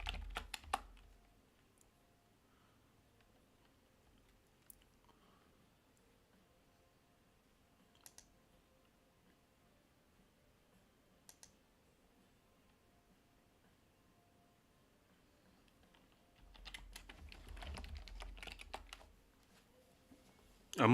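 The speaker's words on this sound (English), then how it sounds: "I know you guys are going to hate my typing here" A computer keyboard is typed on quietly, with scattered single keystrokes and short pairs of clicks spread over a near-silent stretch, then a denser burst of rapid typing near the end.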